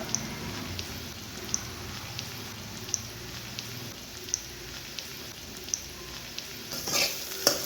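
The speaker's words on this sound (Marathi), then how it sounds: "तर आता हे मस्त तळलेलं जात आहे तर आता आपण कांदा टाकून घेऊया" Ginger-garlic paste frying in oil in a pan gives a steady, soft sizzle with light crackle, close and fairly quiet, with faint regular ticks and a brief stir near the end.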